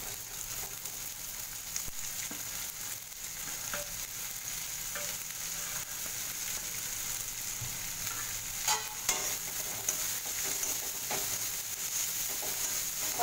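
Capsicum, cabbage and beans stir-fry with onions in a pan for idli manchurian, a steady close sizzle with occasional spatula scrapes and stirring clatter throughout, no talking.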